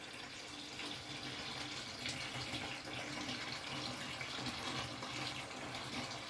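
Water pours steadily from a hose into a container being filled to a marked line, a continuous close hiss and splash with no pauses.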